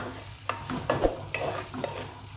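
Onions sizzle steadily in hot oil, with a few scraping stirs of a spoon against the pan, close by and moderately quiet.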